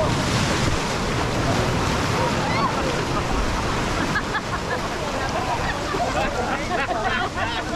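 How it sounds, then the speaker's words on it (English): Ocean waves surge forcefully into a rock pool in the British Virgin Islands, a continuous loud rushing and churning of water with bubbling, mixed with wind buffeting the microphone. "with each surging wave, the forceful water enters and creates bubbles"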